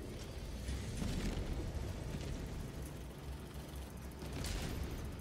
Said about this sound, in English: Oh, I hear explosions